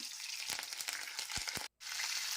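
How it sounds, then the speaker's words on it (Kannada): Garlic sizzles steadily in hot oil in a pan, a close, continuous crackling hiss with a few sharper pops and one momentary cutout. "ಬೆಳ್ಳುಳ್ಳಿನ ಎಣ್ಣೆಯನ್ನು ಸ್ವಲ್ಪ ಫ್ರೈ ಮಾಡ್ಕೋಬೇಕು"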